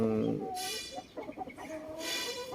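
A chicken in a cramped backyard pen gives a few short clucks and calls close by. Brief rustling sounds between them, and a faint voice comes in at the start.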